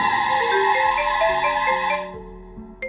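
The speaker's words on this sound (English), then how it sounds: "Old telephone ring, single tone repeating slowly." An old landline telephone rings with a slow, repeating single-tone electronic pattern, close and fairly loud, fading out near the end.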